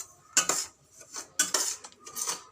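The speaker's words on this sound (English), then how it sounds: "So you are seeing how I am roasting the suji." A metal spoon scrapes and clinks against a pan as semolina (suji) is dry-roasted and stirred over a medium gas flame, in several quiet separate strokes about a second apart, close, with no talking.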